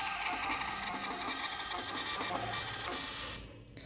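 A thermal receipt printer whirs and buzzes continuously as it prints for about three seconds, then stops, leaving a quieter hum; close and alone.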